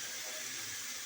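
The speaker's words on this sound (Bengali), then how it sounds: "জল দিয়ে দিলাম" Water pours into a cooking pan of potato curry as one steady, bright rushing splash lasting about a second, close and continuous with no voices.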